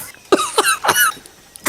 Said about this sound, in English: No, I'm coughing.